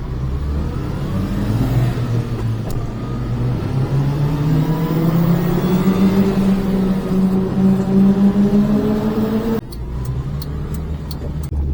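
A micro van engine runs steadily at a low, droning idle for the whole stretch, with a slight shift in tone near the end.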